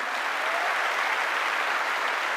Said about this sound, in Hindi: प्लीज प्लीज जोरदार इनके लिए भी एक बार ताली हो जाए।